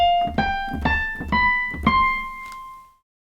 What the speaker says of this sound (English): Okay, so that major scale sounds like this.